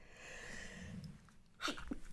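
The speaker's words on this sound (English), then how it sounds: "I'm going to sneeze in a minute." A single short sneeze bursts out near the end, preceded by a quiet indrawn breath, close and fairly soft.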